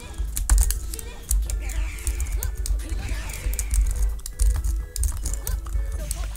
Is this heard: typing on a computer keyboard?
yes